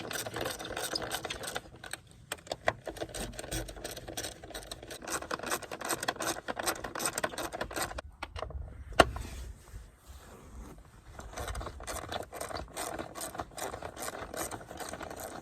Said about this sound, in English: I'm going with the socket because I'm quicker with it.